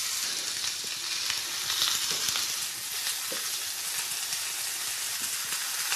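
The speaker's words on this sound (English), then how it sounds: "I've got it all sliced up and ready for us to get the sizzle going." Sliced cured bacon sizzles and spits in a hot griddle pan, a dense steady frying hiss with small crackles throughout, close and continuous with no talking.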